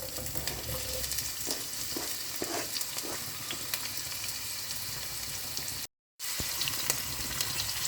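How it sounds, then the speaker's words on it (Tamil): Two large onions fry in hot oil with cinnamon, cardamom and cloves, giving a soft, steady sizzle with scattered crackles and a brief dead-silent gap near the end. No one speaks. "வெங்காயம் வதங்கிட்டோம்."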